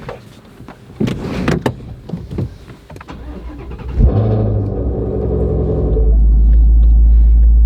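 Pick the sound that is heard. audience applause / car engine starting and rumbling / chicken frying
car engine starting and rumbling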